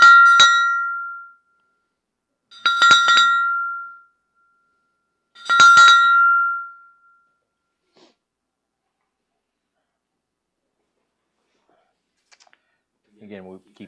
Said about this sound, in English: Bell ring for a friend of a friend.